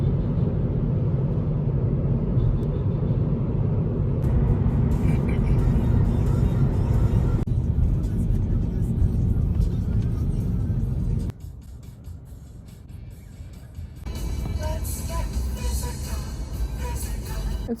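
A car on an early morning drive to the airport, with a steady low engine and road rumble throughout, a drop in level partway through, then a brighter, rougher road noise toward the end.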